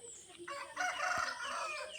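A large rooster kept at a house in the forest crows once, a short cock-a-doodle-doo at moderate distance, rising quickly and holding for about a second against a quiet background.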